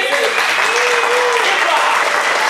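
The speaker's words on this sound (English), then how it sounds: "Let's give a big round of applause for Jess" An audience at a vaudeville show applauds a dancer, with dense, steady clapping throughout and faint voices mixed into the crowd.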